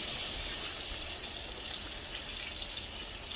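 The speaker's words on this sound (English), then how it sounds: "let's go ahead and rinse this off really well" Running tap water pours steadily over a greasy, baked-on pan being rinsed in a sink, a loud continuous hiss and splash without pause.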